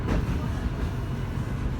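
An airport rail link train from Boryspil Airport to Kyiv rumbles along its tracks, a steady low roar of wheels and carriage heard from inside, continuous and fairly loud with no talking.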